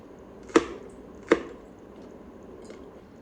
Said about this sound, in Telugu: అలాగే పచ్చిమిరపకాయలను కూడా కొంచెము చిన్న ముక్కలుగా చేసుకోవాలి.